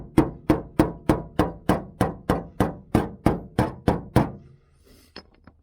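Steel body hammer knocking out high spots on a 1978 El Camino SS body panel: about a dozen sharp, evenly spaced metallic knocks, loud and close, then a short quiet tail with faint clatter.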